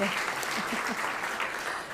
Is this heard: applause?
yes